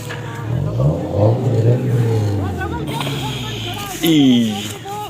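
A stuck local vehicle revs its engine in a rising, straining drone that swells and eases over several seconds, with people talking over it nearby.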